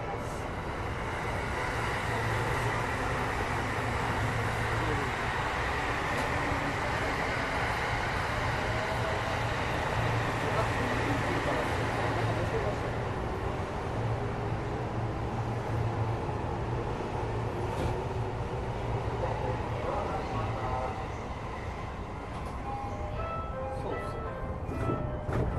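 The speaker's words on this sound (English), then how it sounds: "Train no talk for 2 minutes." A train running in Japan, heard from inside as a constant loud rumble and rushing roar with a low hum, easing slightly toward the end, with no talking.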